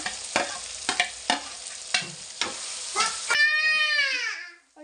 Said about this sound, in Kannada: ಟೊಮೊಟೊ ನೋಡಿ ಚೆನ್ನಾಗಿ ಫ್ರೈ ಆಗಿದೆ. ಇದಕ್ಕೆ ಕಾಯಿ ಹಾಕ್ಬಿಡ್ತಿದ್ದೀನಿ.